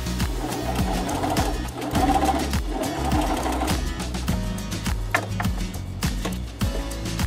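A sewing machine runs continuously and close while stitching a ruffle sleeve, giving a fast, even mechanical rhythm of needle strokes throughout.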